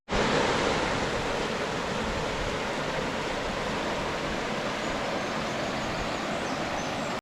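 The Burbage Brook in Padley Gorge rushes along nearby as a dense, steady wash of flowing water, with no pauses or voices over it.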